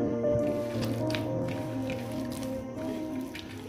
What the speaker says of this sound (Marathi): एक 4-5 मिनिट व्यवस्थित असं मळून घ्यायचं